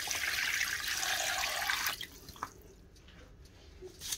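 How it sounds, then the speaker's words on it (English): Water poured into a cooking pot holding washed pork trotters for Samoan-style soup, a steady broadband splashing stream for about two seconds that then stops, leaving quieter clatter and faint room noise. "pour in some water"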